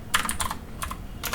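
Quick bursts of clicky keystrokes on a computer keyboard, three short clusters of taps close to the microphone in a quiet room.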